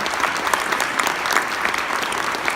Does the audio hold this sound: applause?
yes